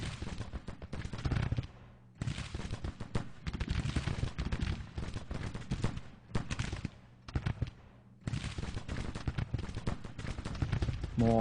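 Dense battle noise from the video game Grand Tactician: The Civil War, with rolling volleys of musket gunfire and booming artillery in long continuous bursts broken by a few short gaps, loud and busy throughout.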